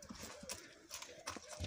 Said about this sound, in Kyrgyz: Багуудагы тай мына.